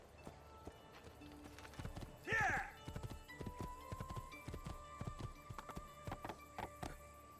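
Steady clip-clop of horse hooves at a walk in Assassin's Creed II, with a brief whinny partway through and a voice talking now and then over the hoofbeats.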